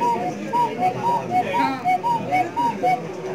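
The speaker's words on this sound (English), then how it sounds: "That is what makes a cuckoo sound." A mechanical cuckoo call from a medium-sized cuckoo clock repeats in a steady two-note pattern, about ten short hoots in a row, close and moderately loud.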